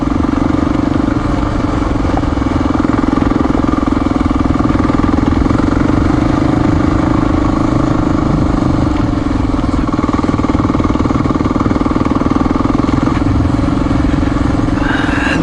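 A Honda XR400R dirt bike engine runs steadily on a forest service road, a close, constant mid-pitched thrum with light mechanical clatter and no pauses.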